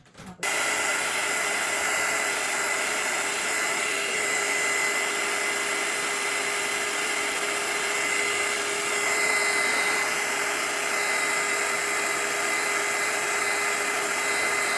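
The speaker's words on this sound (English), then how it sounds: "do the magic with this, with the embossing, which is the heat gun" Heat gun used for embossing on stamped holiday cards, switching on with a click and then blowing a steady, close whooshing hum that holds evenly to the end.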